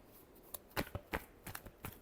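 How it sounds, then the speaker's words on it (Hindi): Tarot cards being shuffled close by, a quick run of soft riffling flicks and slaps in uneven bursts, quiet with no voices. "last shuffle"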